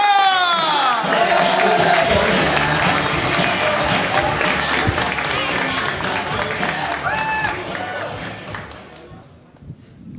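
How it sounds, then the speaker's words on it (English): A comedy club audience whoops, claps and cheers to welcome a comedian, a loud burst of clapping and cheering that fades out toward the end, with a voice at the start. "Whoop, clap, cheer, and welcome to the stage, the wonderful Adnan Shah"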